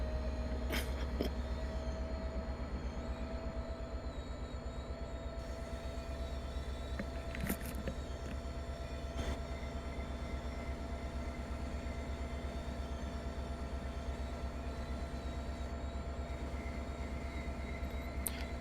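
Train Sim World 2 train rolling slowly through a train wash, a steady low rumble with constant hum and occasional clanks and hiss bursts, continuous throughout with no talk.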